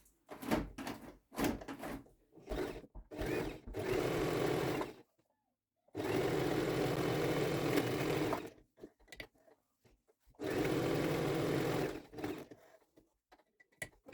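A sewing machine stitches a pillowcase in several loud, steady runs of whirring stitching, the first bursts short and choppy, then two long sustained passes separated by pauses and small handling clicks.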